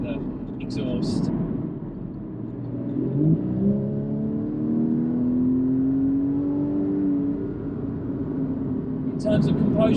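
A Porsche 981 Boxster S with its mid-mounted engine and exhaust, driven with the roof open, rising steadily in revs through a gear with a smooth climbing note, heard under someone talking.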